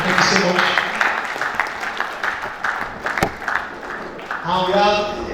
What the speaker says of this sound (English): Still clapping now.